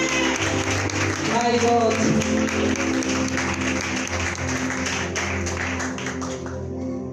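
An audience at a Christian conference plenary applauds and cheers to welcome someone speaker, dense steady clapping and voices filling the hall, with a brief exclamation heard over it.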